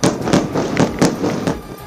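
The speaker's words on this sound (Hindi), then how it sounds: "इजरायल की सेना की तरफ से हिजबुल्लाह के ठिकानों पर किए गए हमलों का एक वीडियो भी जारी किया गया, जिसमें कई तेज धमाके होते दिखाई दिए" Israeli strikes on Hezbollah positions produce a rapid string of loud, sharp blasts, about four to five per second, each a short booming crack over a rumbling background.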